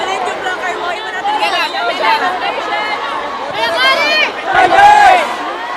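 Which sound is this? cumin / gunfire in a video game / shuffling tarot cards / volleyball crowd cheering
volleyball crowd cheering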